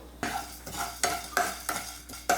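Whole coriander seeds and black peppercorns being stirred in a hot pan for chicken fry, with a spoon scraping in a steady rhythm of about six close, distinct strokes over a light sizzle.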